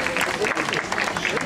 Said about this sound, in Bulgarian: Аплодисменти за тези две красиви дами.